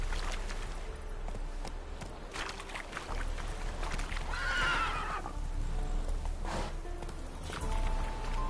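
Roach, a horse in a video game, neighs loudly in a clear whinny near the middle, set against a steady bed of clip-clopping hooves and ambient game sound throughout.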